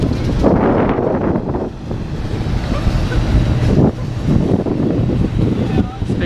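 Heavy buffeting wind roars across the microphone in gusts, loud and close, with no clear speech audible through it.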